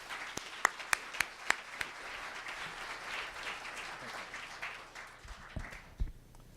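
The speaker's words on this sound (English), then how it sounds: "So can you please help me welcome Michael with a warm round of applause." An audience at a tech innovation forum breaks into warm applause to welcome a speaker, a few sharp early claps swelling into a steady, moderately distant round that gradually fades out, with faint voices near the end.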